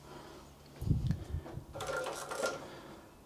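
A Typical TW3 343D industrial cylinder arm walking foot sewing machine stitching through heavyweight material, not at full speed: a short thumping start followed by a faint, rapid mechanical clatter nearby.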